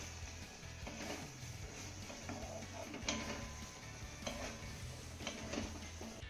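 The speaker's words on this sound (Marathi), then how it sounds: "एकदा ही भाजी ना आपल्याला तळापासून चांगली हलवून घ्यायची आहे" Vegetable curry stirred up from the bottom of a pan, with quiet scraping and clicking strokes of a spoon in an irregular rhythm over a faint low sizzle.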